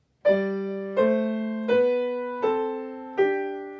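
Five piano notes struck in a slow, even sequence, each ringing and fading before the next, with low and higher notes sounding together.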